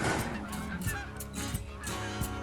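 Geese on a Yukon hunt honk repeatedly as they come in to land, a rapid series of loud, nasal calls overlapping close by.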